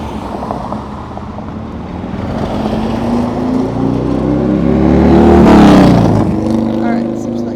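Road traffic with cars driving past, a steady engine rumble that swells as one vehicle passes close by, its tone rising to a peak and then falling away.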